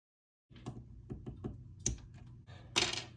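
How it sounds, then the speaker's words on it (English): Keycaps being pulled from a Womier K87 mechanical keyboard fitted with Gateron red switches: several light clicks and thunks in an irregular sequence, close and fairly quiet, ending with a sharper scraping snap. "let's take one of the keycaps off so I can show you that"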